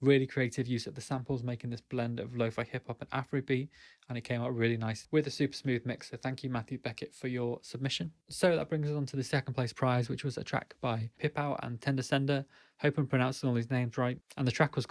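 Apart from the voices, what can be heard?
No everyday noises stand out.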